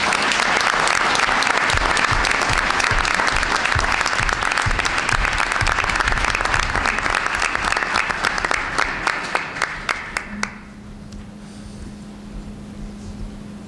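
A room at a school board meeting breaks into applause for a student volunteer, dense crisp clapping that thins to a few last claps before a quiet hum remains.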